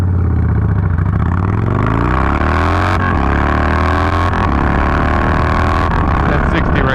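A Yamaha Bolt motorcycle accelerates hard from a standstill to 60 mph, its loud engine note climbing steadily through the gears with brief dips at each shift, accompanied by strong wind rush.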